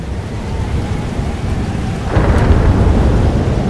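A rumbling thunderstorm in the video game Life is Strange 2, with steady heavy rain and a deep roll of thunder swelling partway through, loud and close.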